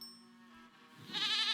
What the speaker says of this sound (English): Bring the goat back